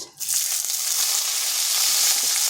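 A large onion, cut into pieces, drops into hot oil already tempered with whole cumin, a dried red chilli and bay leaf for a bitter gourd curry. After a brief quiet start it erupts into a loud, steady, close sizzle.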